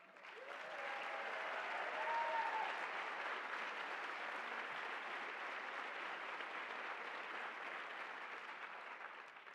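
Audience applause fills a lecture hall at a women's justice event as a senator is recognized. The clapping is broad and steady, a little distant, and runs nearly ten seconds with a faint voice near the start.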